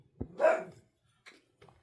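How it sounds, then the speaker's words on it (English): A single sharp dog bark rings out indoors, followed by a couple of faint short yips or huffs, heard alone with no talk over it. "Dog."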